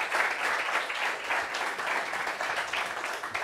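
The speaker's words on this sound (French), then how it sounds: "Applaudissements sérieux." Sustained applause from a studio audience on a talk show, a thick continuous patter of many hands clapping at steady loudness with no talk on top.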